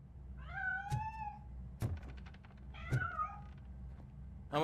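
A cat gives two drawn-out, rising-and-falling meows close by, with a sharp knock or thud between them and another at the end, against a low indoor hum.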